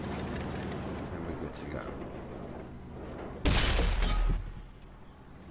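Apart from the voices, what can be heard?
tank cannon shots in World of Tanks video game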